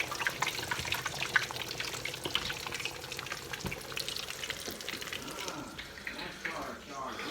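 Crappie fish fry in a frying pan with a steady, dense sizzle and crackle throughout, moderately close, with some talk faintly over it.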